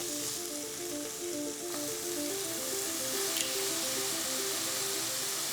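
A pork chop sizzles in a pan of oil with scallions, a steady close frying hiss that grows slightly louder as the meat settles in.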